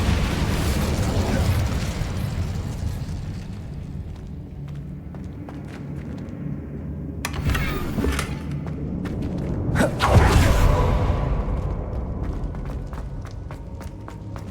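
Incendio fire spell cast in the video game Hogwarts Legacy, a sustained roaring burst with thumping impacts swelling near the end over continuous game noise.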